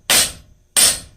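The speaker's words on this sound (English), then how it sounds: "Now I'm hammering on this quite cold" Two sharp metallic hammer strikes on cold steel being tapered by a blacksmith, evenly spaced, each ringing briefly before fading.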